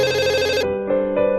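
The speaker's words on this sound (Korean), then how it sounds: "딸로부터 걸려온 한 통의 전화." A telephone ringtone sounds loud and close, a sustained electronic melody shifting between a few tones in steady phrases, alone with no voices.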